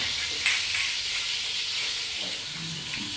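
Ingredients sizzle and crackle in hot oil in a pan, a steady bright frying hiss with a few sharper pops, moderately quiet and close.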